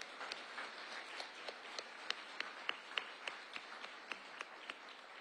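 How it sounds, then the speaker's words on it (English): Applause for winners at an annual historic preservation awards ceremony comes across as faint, sparse, evenly spaced claps, a thin scattering of hands rather than a full crowd. "let's give a round of applause to all of our award winners"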